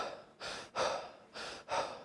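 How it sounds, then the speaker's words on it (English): Shallow upper-chest breathing is demonstrated at close range. Four quick, airy breaths alternate between in and out with short pauses between them, and no talking is heard. "It's a very open type of breathing, but it's also very shallow."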